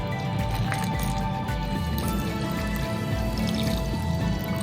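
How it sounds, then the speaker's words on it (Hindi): Water poured into spices (red chilli and a tablespoon of turmeric) for kadhi pakora, a loud wet splashing and squishing close by over a steady low rumble, with no talking. "अब हम इसमें पानी डालेंगे"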